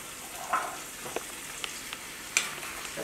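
Onions and peppers sauté in a pan before cabbage goes in, giving a continuous moderate sizzle with a few light clicks and stirs.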